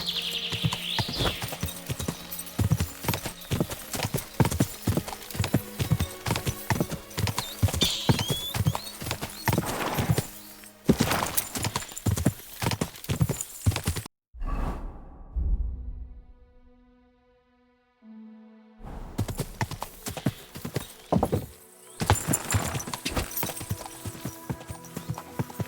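Horse hooves galloping in the medieval video game Kingdom Come: Deliverance 2, a rapid loud clip-clop rhythm with brief pauses, one near-silent gap, and an occasional whinny.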